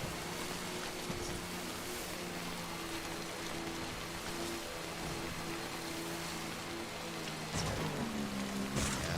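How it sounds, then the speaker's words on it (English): Heavy rain pours in the Death Stranding video game, a dense, loud, steady hiss of downpour with a low rumble underneath and a few brief louder bursts near the end. "This rain is definitely probably taking its toll on everything. Because that is some pretty heavy rain."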